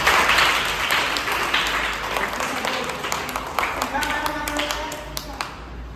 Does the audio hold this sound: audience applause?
yes